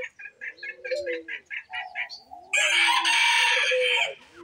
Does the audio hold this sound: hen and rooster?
yes